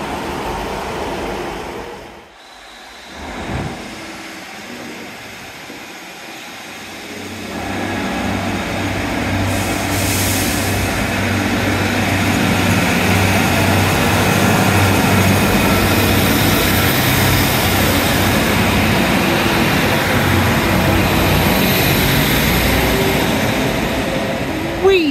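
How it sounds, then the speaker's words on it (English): A train pulls away from Teignmouth station, its low engine rumble building after a few seconds into a sustained heavy drone that holds for the rest of the clip, with outdoor noise and some talk early on. "Ooh, there's one waiting for us to film it, pulling away."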